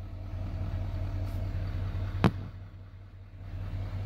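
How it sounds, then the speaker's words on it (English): A Chevrolet Z71 Midnight Edition with a Duramax diesel idles at a steady low rumble, with one brief sharp click partway through and no talking. "Midnight Edition Z71 Duramax diesel. Have the engine on, it's purring."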